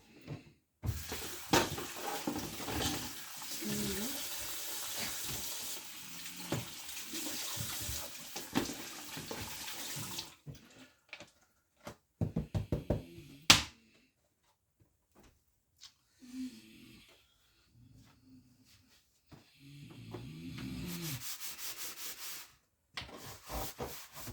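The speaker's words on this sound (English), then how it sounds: "Let's clean the dishes in the kitchen as well." Dishes being washed at a kitchen sink with the tap running: steady broadband water noise and rubbing scrub sounds for about ten seconds, then scattered clinks and rubbing with bursts of running water, fairly close.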